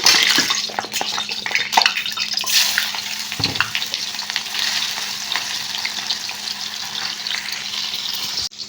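Chicken fries in hot oil with a loud, steady crackling sizzle that runs continuously and close, with occasional stirring scrapes.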